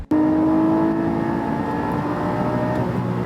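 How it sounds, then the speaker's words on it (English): A naturally aspirated Porsche 718 engine revs steadily and loudly with a clear rising then sustained tone, heard close up on its own with no talking. "I love being able to put the roof down and hear the engine."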